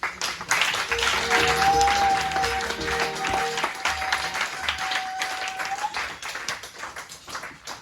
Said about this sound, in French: Ovation de Dieu.